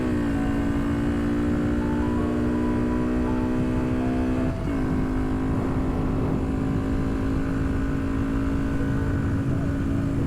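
A car with a newly replaced clutch drones loudly from inside the cabin, its steady engine tone breaking midway as it shifts down, then settling into a new steady pitch.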